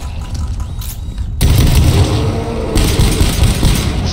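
Loud gunfire in the video game GTFO as players shoot a giant enemy, heard as a dense, booming barrage that starts abruptly after a quieter moment and keeps on, close and heavy, with a second surge partway through.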